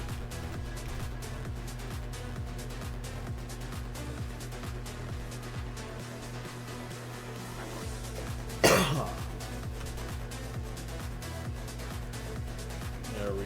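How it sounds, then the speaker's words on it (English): A single sharp, close cough from a man with a chronic cough caused by blood pressure medication. It bursts out once over a steady electronic hum and background game sounds. "So this cough is about back to my normal cough"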